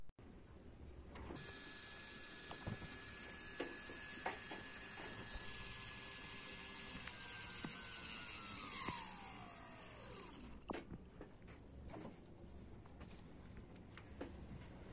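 A brushless motor driven by an ESC winds up in speed, giving a high electronic whine that climbs steadily in pitch for several seconds before cutting out abruptly, with faint clicks afterward.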